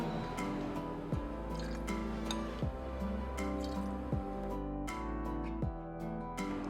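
Lemon juice is poured into a homemade chilled summer drink, a soft trickling, dripping pour running steadily over background music.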